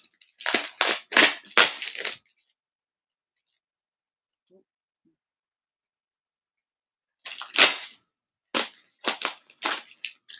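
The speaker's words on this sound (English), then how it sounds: "Sorry about the tape sound." Adhesive tape ripped off a roll during a live chat stream, two bursts of loud, close, crackling tearing separated by a long silence, the second burst broken into several short pulls.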